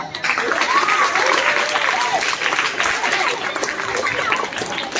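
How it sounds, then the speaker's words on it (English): A crowd at an educational cricket match claps loudly for the man of the match, a dense burst of applause that holds steady for several seconds with a few chuckles mixed in. "So give us the big clap."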